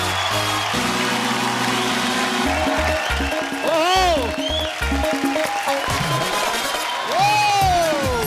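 A studio audience at a comedy show claps and cheers to welcome tennis player Sania Mirza. The applause is dense and sustained throughout, with music and shouts mixed in.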